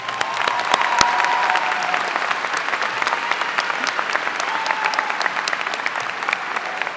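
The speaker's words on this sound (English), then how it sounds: "Please give them a round of applause." Sustained applause from a graduation ceremony audience at J.M. Hanks High School in 2015, dense even clapping across the whole stretch with a few sharper claps and faint crowd voices underneath.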